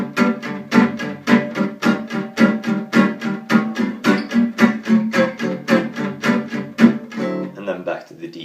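Gypsy jazz guitar plays the first A section of a tune, a steady strummed rhythm with crisp, evenly spaced chord hits ringing clearly and alone until it stops near the end.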